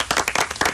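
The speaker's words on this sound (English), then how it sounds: "Round of applause for Aski" A studio audience or host gives a brief round of applause on a radio phone-in show, just a few quick close claps in under a second.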